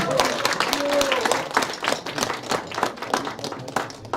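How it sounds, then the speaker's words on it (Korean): Concert audience at a spring healing concert claps for the band, lively applause filling the room with scattered voices and a brief whistle-like tone early on. "여러분들 다시 한번 저 우리 팀들한테 박수 한번 해주세요"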